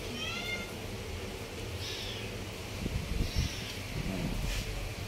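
A cat meows several times asking for cat food, short plaintive calls at moderate distance over indoor background noise and light rustling.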